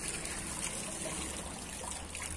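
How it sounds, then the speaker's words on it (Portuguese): Water from a tap running into a bucket for cleaning a bathroom, a steady, even trickling and splashing flow, continuous and fairly quiet at close range with no talk. "Eu fico enchendo aqui o balde d'água pra eu poder lavar o banheiro."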